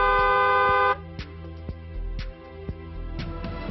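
A car horn honks over busy traffic, with a long steady blast at the start followed by a few shorter toots.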